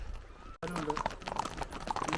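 A horse's hooves clip-clop along a hill trail near Pahalgam, a steady close rhythm of hoofbeats over outdoor rumble, with faint chatter in the background.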